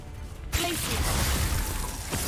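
The Glacius freezing spell in Hogwarts Legacy, a sudden icy shattering crack followed by a loud, dense hiss and crackle that runs on for about two seconds.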